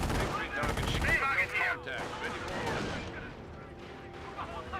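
In the game Company of Heroes, a G43 rifle squad keeps up a dense, continuous rattle of gunfire with overlapping shots. A voice can be heard under the shooting.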